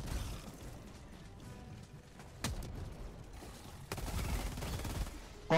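An orbital 380mm barrage in Helldivers 2 rumbles as a low, muffled bed of distant explosions, with two sharper, heavier blasts breaking through a few seconds apart.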